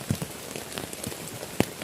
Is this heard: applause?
no